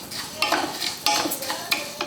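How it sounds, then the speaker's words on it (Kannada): Raw rice dry-roasting in a pot over a medium flame for akki tambittu, stirred with a utensil that makes a series of close, dry scraping swishes and light rattles at irregular intervals. "ಇವು ಅಕ್ಕಿ ಚಲೋ ಹೊತ್ತಿನಾಗೆ ಹುರ್ಕೋಬೇಕಾಗ್ತೈತ್ರಿ"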